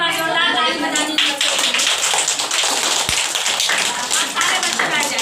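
Children and parents at a teacher-parent meeting in a village primary school clap in a dense, sustained burst, loud and close, with voices mixed in.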